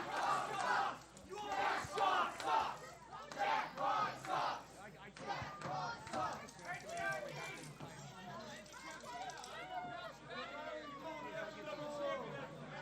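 A rowdy crowd at a late-night local wrestling event cheers, yells and chants in loud surging waves, then settles into a dense babble of shouting voices that carries on throughout.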